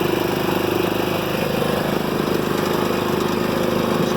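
A scooter engine with clutch trouble revs hard at high RPM, a loud, steady buzzing drone with a fast pulsing rattle, close up and unbroken, with no voices over it.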